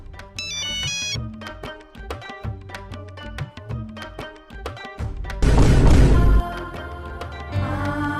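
A mobile phone ringtone plays a loud, bright electronic melody of rapid repeated notes. It runs continuously and swells into a fuller, louder passage near the end, with no talking.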